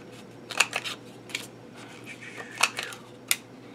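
Corner rounder punch trimming paper corners to a 1/4 inch round for a Christmas sweater scrapbook layout, giving a series of sharp, close clicks and snips, several spaced out over a few seconds against a quiet background.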